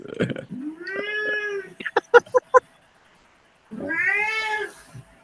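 A cat gives two long, drawn-out meows separated by a few short sharp sounds and a brief pause, close and clear.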